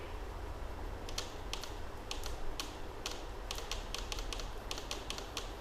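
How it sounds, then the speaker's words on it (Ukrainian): Sharp, light clicking from a car fuel injector, irregular bursts of quick ticks over a low steady hum, close up, no talking. "Форсунка щелкає"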